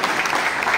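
Brief burst of audience clapping at a political gathering in Charthawal, a dense wash of many hands applauding together, steady and fairly loud, with no voices standing out.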